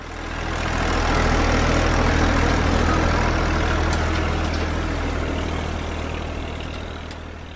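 A tractor's heavy diesel engine chugs steadily at close range, a loud, low, continuous rumble with no other sounds.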